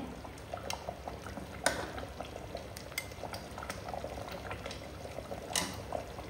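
Ladle scooping mutton gravy from a simmering pot, with soft bubbling and occasional metallic clinks and liquid slops, steady and close.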